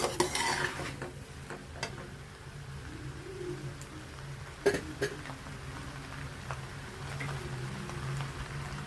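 A spatula stirs an ivy gourd stir-fry in a pan, giving sparse, close clicks and scrapes against the metal while birds coo softly in the background and no one speaks.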